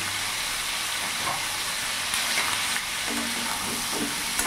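Turmeric and cumin powder fry in a hot pan while being stirred, giving a steady close sizzle with scraping stir strokes and no talk.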